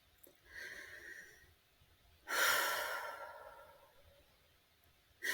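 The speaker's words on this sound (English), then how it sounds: "Just taking this slow, deep breath." One slow, deep breath in and out, close and soft, with a longer exhale swelling and fading, followed by a brief start of another breath.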